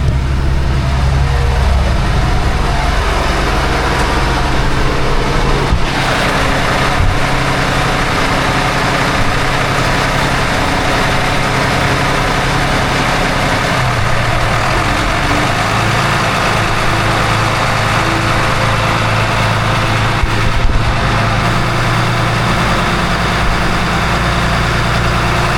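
Port marine engine on a boat far out in the Gulf of Mexico runs at a steady idle, a continuous loud low rumble that holds throughout with no talk over it.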